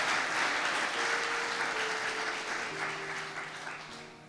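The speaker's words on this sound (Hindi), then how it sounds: "जोरदार तालियां खुदा के लिए।" A church congregation applauds during a sermon with steady, dense clapping that holds evenly throughout and eases only slightly toward the end, under a faint sustained tone.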